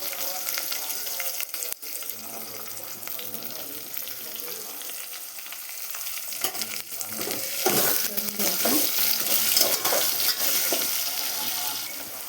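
Onion hits hot oil already seasoned with garlic, asafoetida and curry leaves for drumstick sambar, a continuous sizzle that swells louder midway, with stirring clinks and a faint background murmur.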